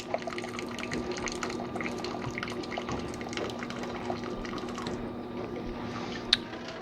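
Boiled cabbage leaves lifted on serving spoons shed water in soft, irregular drips and trickles, close and quiet, with faint kitchen background and a brief clink near the end.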